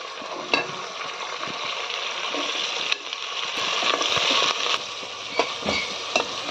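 Tomato bath simmering in a pan is stirred, giving a steady sizzle and wet scraping with occasional sharp clicks of the spoon against the pan, close and fairly loud throughout.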